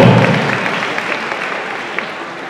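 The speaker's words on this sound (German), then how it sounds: "Applaus jedenfalls für die beiden." Dense audience applause at a Vienna comic-con panel, a steady wash of many hands clapping that fades slightly over a couple of seconds, loud and close with no talk.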